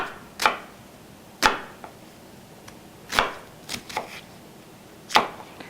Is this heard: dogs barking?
no